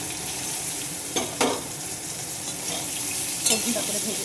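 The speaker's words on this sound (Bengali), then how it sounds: "সবজিগুলোকে আমি হালকা করে ভেজে নেব।" Potato, green banana and drumstick pieces lightly frying in a pan with dry red chillies and black cumin, a steady close sizzle with a few scraping stirs of a spatula.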